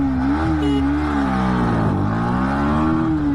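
A Hero Xtreme 125R-class 125cc motorcycle pulls hard from a stop in first gear, its engine note climbing and dipping in a steady rising whine, loud and close, with no one talking.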